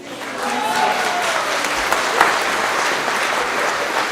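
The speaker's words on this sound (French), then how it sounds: "On peut les applaudir très fort." Audience applause after a concert, dense sustained clapping from a sizable crowd, loud and steady for several seconds, with a voice speaking over it.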